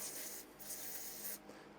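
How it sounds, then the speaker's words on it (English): Cleaner sprayed in short bursts into the carburettor of a Husqvarna 123HD60 chainsaw that fails to run, two close hissing sprays separated by brief pauses. "just spray some stuff in there till it fills up"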